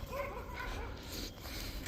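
Dogs bark and yip faintly in the distance over a steady outdoor hum, some whimpering calls mixed in.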